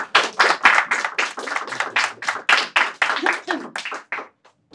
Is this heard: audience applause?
yes